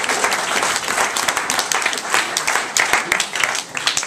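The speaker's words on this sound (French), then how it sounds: "on applaudit, s'il vous plaît" Loud, close applause from a live jury-show audience, dense hand claps packed tightly and continuing throughout with slight swells and dips, no voices standing out.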